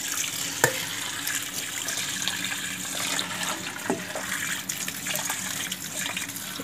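Sticky rice is rinsed under a running tap, a continuous close gush of water with small splashes and clinks as the grains are stirred, no talking over it.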